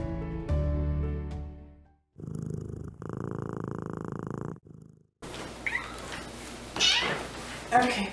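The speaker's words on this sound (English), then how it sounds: "this is my Sphynx cat, Izu." Sphynx cat vocalizing at home with purring and short meows, mixed with segments of other sounds and a person talking.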